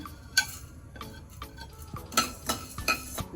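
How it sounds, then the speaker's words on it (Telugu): Coriander seeds and whole spices dry roast in a hot pan, with a metal spatula clinking and scraping in irregular taps and stirs, close up and without sizzle. "బాండి వేడెక్కినాక ధనియాలు వేసుకుందాము"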